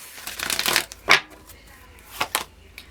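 Tarot cards are shuffled by hand close up in quick riffling bursts. A longer flurry is followed by a few sharp, separate snaps of the deck.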